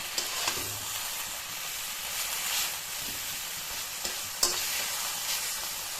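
Leafy greens sizzle and fry in hot oil in a Bangladeshi home kitchen, a steady broadband crackle with occasional stirring knocks, no voices.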